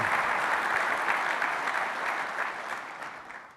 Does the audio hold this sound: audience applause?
yes